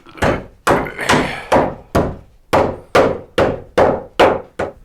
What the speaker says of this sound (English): I need my lighter hammer today.